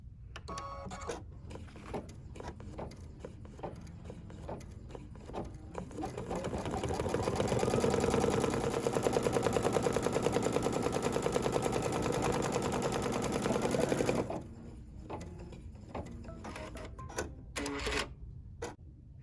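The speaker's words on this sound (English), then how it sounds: "So we're going to stitch out this part here, and here we go." An embroidery machine stitches out a chenille tree design for a winter-themed project, a fast rhythmic mechanical clatter that ramps up, runs steadily and loudly through the middle, then drops back to quieter intermittent needle ticking.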